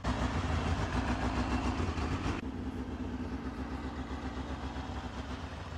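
A Laverda Jota 1000cc three-cylinder motorcycle engine runs steadily and close by, a dense, continuous drone that drops slightly in intensity partway through and keeps going without talk.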